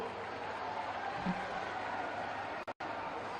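A crowd at a public government event in Aligarh welcomes the chief minister with steady, even applause, a continuous wash of clapping broken by a brief dropout near the end.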